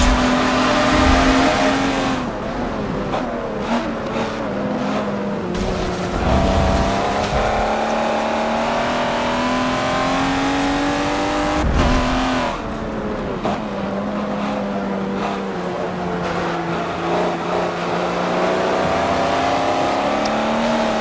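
Racing cars in an Xbox One X driving game, with a loud, steady engine drone that rises and falls in pitch through gear changes and revving. Tire noise and brief bumps are mixed in, and nobody talks over it.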